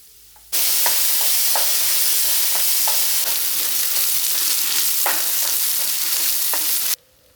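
Sliced onions and green chillies sauté in hot coconut oil, a bright continuous sizzle with soft intermittent scrapes of a spatula stirring, close and steady before cutting off abruptly.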